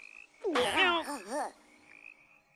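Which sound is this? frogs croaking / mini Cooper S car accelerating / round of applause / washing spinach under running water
frogs croaking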